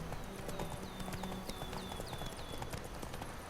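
A horse's hooves clip-clopping at a steady rhythm in The Witcher 3 video game, close and clear, with faint game ambience behind.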